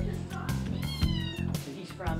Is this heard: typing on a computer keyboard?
no